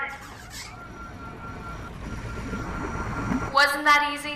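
A steady, low mechanical rumble from an escape pod's engine running in the VR game I Expect You To Die, holding evenly throughout and swelling slightly near the end, where a voice briefly speaks over it.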